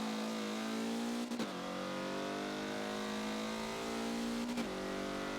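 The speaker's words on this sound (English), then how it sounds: "you're going to be bouncing the throttle a lot through 130R" A race car engine at Suzuka in a Forza racing game holds a loud, steady high drone, with two sharp throttle blips where the pitch briefly drops and climbs again.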